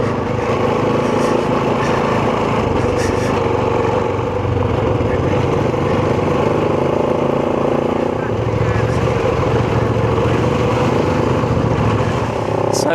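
KTM 990 and Kove 450 adventure motorcycles ride through snow in North Wales. A steady, loud engine drone and wind roar run throughout with no letup, as if heard from on board.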